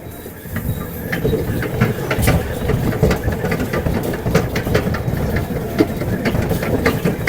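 Bumper cars at an amusement park rumble steadily, with scattered clattering knocks and bumps across a dense, loud mechanical drone.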